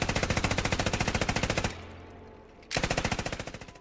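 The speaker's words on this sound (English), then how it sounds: "The C9 light machine gun has been added and is coupled with the C7 optic." C9 light machine gun in the game Squad firing fully automatic, a loud, fast, evenly spaced stream of shots that stops for about a second, then resumes in another rapid burst.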